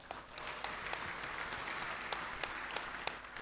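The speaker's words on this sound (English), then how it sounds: "Let's also give them a round of applause." An indoor audience at the 2018 Perodua Myvi car launch claps steadily, with dense applause and a few sharper individual claps standing out across the whole stretch.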